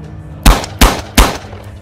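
Three loud gunshots fired in a steady rhythm about a third of a second apart, each a sharp broadband crack with a short decay, used as a sound effect in a bounty hunter roleplay audio story; no talking.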